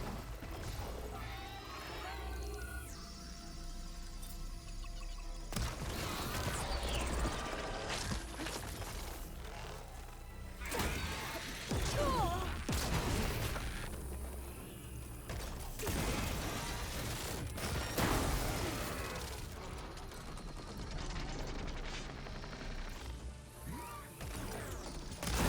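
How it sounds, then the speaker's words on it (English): Carpet bombing in the video game Horizon Forbidden West: a long, dense barrage of heavy explosions, crashes and thuds rolling one after another, loud and continuous with little pause. "Oh god, he's carpet bombing."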